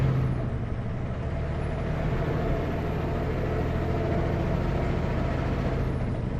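A logging truck engine runs at full throttle with a light rear load, heard from inside the cab as a steady, loud, low drone with no break and no voices.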